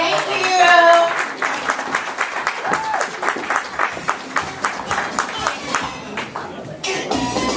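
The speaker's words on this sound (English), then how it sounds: "Let's give them a round of applause again." An audience at an LGBTQ Black marriage victory celebration in Chicago claps for young speakers, sustained dense applause close by with a rhythmic pulse of clapping and some crowd murmur beneath.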